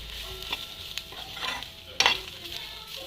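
Garlic sizzles in a hot pan for a chutney while a spoon stirs and scrapes through it, with a steady fry hiss and a sharper clatter near the end, no voices.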